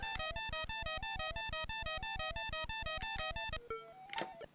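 A bell alarm in the Commodore 64 game Hungry Horace rings as a rapid, regular series of bright electronic chimes, then breaks off into a short blip and a burst of game noise.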